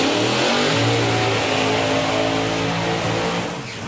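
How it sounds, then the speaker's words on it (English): A fuel altered drag racing car roars through a burnout at a drag strip, a loud, harsh, sustained engine blare that rises in pitch and then eases off near the end. "That's what a fuel auto burnout should sound like."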